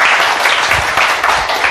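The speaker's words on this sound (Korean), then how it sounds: "박수 좀 세게 쳐봐요." Audience applause at a civic group lecture by a pastor: a short, loud, dense burst of clapping from a crowd, steady throughout.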